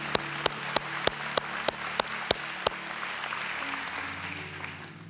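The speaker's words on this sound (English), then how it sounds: "Can we give the Lord a round of applause?" At a church service, steady, evenly spaced claps ring out over a low crowd rumble and hum, then stop while the background murmur continues.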